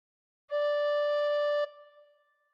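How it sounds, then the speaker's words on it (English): A single tin whistle note sounds with holes one to five covered and a slightly harder breath, held steady for about a second with a pure tone before cutting off, followed by a faint fading ring. "cover holes 1 to 5 with fingers 1 to 5 and blow a bit harder once"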